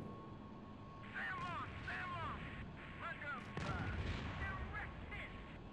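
Anti-aircraft fire in the flight combat game Strike Fighters 2: Vietnam, distant rumbling bursts and booms over a constant jet engine drone, mixed with faint chirping warning tones.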